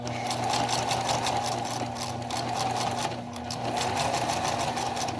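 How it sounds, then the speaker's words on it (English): A sewing machine stitches a fabric mask in one steady, fast run, its needle chatter rhythmic, even and close up with no pauses. "and then you sew all the way down"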